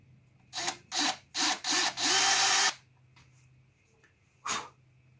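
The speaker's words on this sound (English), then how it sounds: "I'm going to drill until this tape makes contact with the headstock" A power drill bores a hole into a roasted maple guitar headstock. Four short, close whirring bursts lead into one longer sustained run, then a single brief burst follows after a pause, with no talking.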